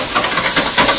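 Soft bacon frying in a pan after a crispy batch, giving a loud close hiss and sizzle with brief crackling swells, no talking over it.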